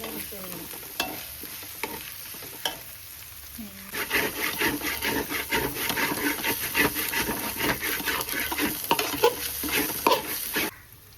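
Ingredients for fish pickle are stirred and scraped in a frying pan with a wooden spoon, quieter scraping at first, then a steady sizzle with dense, rhythmic stirring strokes close by, with no talking.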